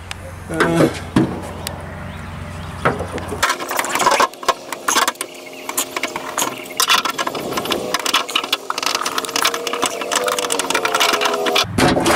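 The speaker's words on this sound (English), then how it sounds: "You squeeze it with the pliers, go in there with your flathead, push it out, and it'll pop right out." Factory push clips are squeezed with pliers and pried out with a flathead screwdriver during a Valkyrie lower-body installation; rapid plastic clicks, scrapes and tool clatter sound close, with a motor-like hum underneath.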